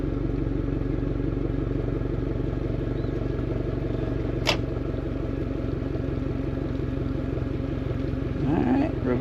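A Suzuki DF150 four-stroke outboard motor runs in gear with a steady, loud droning rumble and fine mechanical clatter, one sharp click midway and a brief voice near the end.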